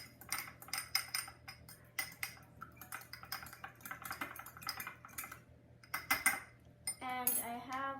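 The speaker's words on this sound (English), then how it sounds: "So I'm just going to beat it a bit with a fork." A fork beats an egg in a bowl, giving rapid, irregular metallic clicks and clinks against the dish, close and crisp, with brief pauses and a short voice near the end.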